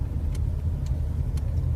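A car driving in third gear at about 20 to 25 km/h during a driving lesson gives a steady low engine rumble with road noise, even and unbroken, recorded from inside the cabin with no talking.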